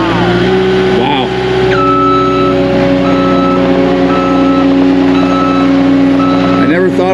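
A Cat 259 D3 skid steer runs with a steady engine drone while its reversing alarm sounds a continuous tonal beep close by. A voice is heard over the machine.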